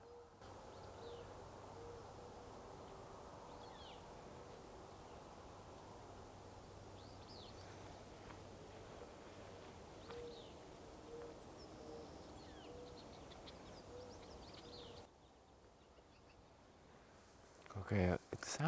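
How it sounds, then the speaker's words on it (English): Faint, distant cooing of a mourning dove high in trees, soft repeated hoot-like calls scattered over a quiet outdoor background, ending with a short burst of rustling handling noise. "it sounds like it might be a mourning dove and not an owl"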